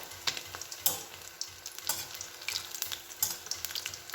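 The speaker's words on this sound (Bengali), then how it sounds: "একইভাবে এই লাল লাল করে আমি পুরো মাছগুলো সব ভেজে নেব" Amudi fish fry in hot oil in a pan with a bright, crackling sizzle and scattered sharp pops, near and moderately loud, with no voices.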